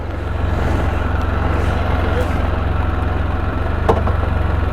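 A Can-Am Canyon engine idles steadily with a low, even rumble, and a single clunk is heard as it drops into gear, close and without talk.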